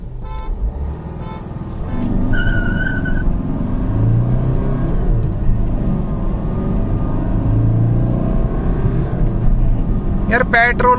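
Honda WR-V and Hyundai Creta cars accelerate side by side in a drag race, their engines roaring steadily and loud for most of the stretch, with a short horn toot near the start and voices over the noise.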